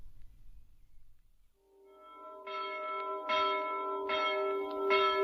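A town hall bell rings out in a 1950s radio drama, its sustained, harmonic tone swelling in after a near-silent start and struck again several times so the strokes overlap and ring on.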